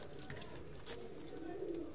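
Low, soft pigeon cooing repeats steadily close by, with faint rustling and background noise and no talking.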